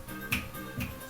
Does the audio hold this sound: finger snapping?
yes